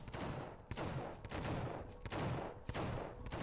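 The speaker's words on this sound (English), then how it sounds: "they start shooting at us" Correctional officers shoot in The Suffering, a rapid, repeated volley of gunshots at an irregular rhythm, fairly close and sustained across the short stretch, with no talk over it.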